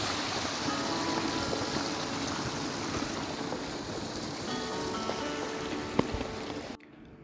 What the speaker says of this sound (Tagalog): Ang tubig talagang dire-diretso.